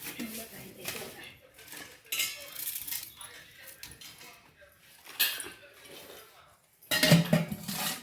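Dishes and utensils clink and scrape in irregular bursts as food is served, with quiet gaps between them and a sharper clatter near the end.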